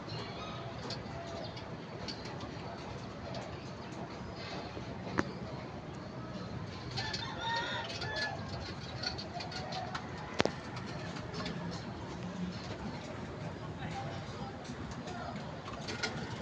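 Pigeons coo softly in a quiet outdoor spot, low murmuring calls repeating under faint background noise, with a couple of sharp knocks.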